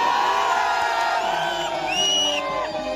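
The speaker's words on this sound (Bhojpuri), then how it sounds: "शीश के लिए हल्ला करके ताली बजाइए" A crowd at a Bhojpuri stage show in Nawada cheers and whoops loudly in a continuous roar, with a few rising shouts standing out near the end.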